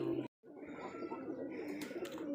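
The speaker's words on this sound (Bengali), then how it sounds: "আচ্ছা, অনেক সুন্দর কবুতর।" Giribaj pigeons at a pigeon farm in Rajshahi cooing softly, low throaty coos continuing after a brief gap, close by, with faint chirps and a murmur of people nearby.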